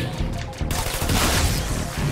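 Rapid gunfire from a turret fight in the video game Trials of the Blood Dragon, a dense continuous rattle with bursts of noise, loud and close throughout, with a voice faintly underneath.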